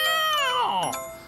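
A voice actor imitates a cat's meow, one drawn-out, falling, tonal mew heard alone and close.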